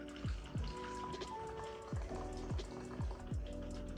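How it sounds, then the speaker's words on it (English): An espresso martini made with Baileys pours from a cocktail shaker, giving a steady liquid splash with repeated sharp drips and clinks against the glass at close range. "now I'm gonna go ahead and pour it out"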